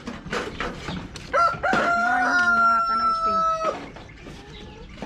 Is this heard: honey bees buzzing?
no